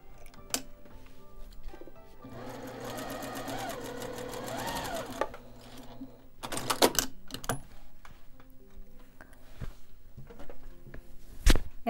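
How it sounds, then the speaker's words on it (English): Sewing machine stitching two quilting fabric strips together for a small basket quilt block, running in a steady rapid burst of needle strokes, with brief starts and stops, handling clicks and fabric rustle around it. "I'm going to sit at the machine and put these two together."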